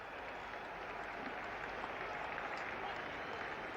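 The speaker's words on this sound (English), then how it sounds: "Crowd going wild now." Crowd at a 1973 England vs. West Indies Test cricket match applauds a boundary, a steady, even patter of clapping held at moderate level throughout, with no voices standing out.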